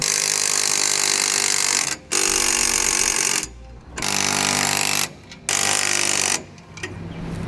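An impact wrench or similar power tool tightens M16 bolts on an Erickson ladder rack with load stops on a 2013 truck bed, running in loud, close bursts of about one to two seconds separated by brief pauses.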